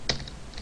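Quick burst of keystrokes on a computer keyboard, a sharp tap followed by a few softer clicks, close and alone.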